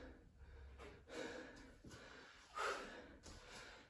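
Heavy, faint breathing after a full-body home workout, with several close gasping breaths and snorting exhales in an uneven rhythm.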